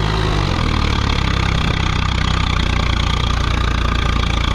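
A tractor engine revved at full throttle, a loud, close, unbroken droning rumble that holds steady throughout, with no voices over it.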